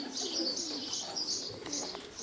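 Racing pigeons at a loft cooing and warbling in a steady, continuous murmur with a few brief chirps mixed in, fairly close and with no talking.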